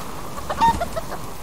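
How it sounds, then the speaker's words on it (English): A chicken in the survival game Subsistence gives a quick, loud burst of clucks, a few close squawks over quiet ambient noise. "Ooh, chicken. Chickens are us. Come here. Come here, chicken."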